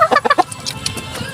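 A hen of a fighting-cock breed clucks loudly and close by in a quick burst of four or five notes, followed by softer, scattered clucks.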